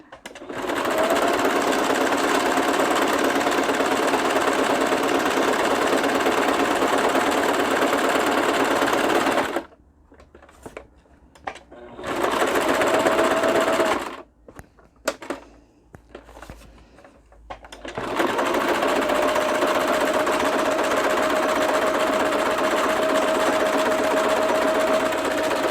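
Sewing machine stitching around the edge of a piece, a loud steady motor hum running continuously, pausing for a few seconds of quiet and short bursts midway before resuming its even drone.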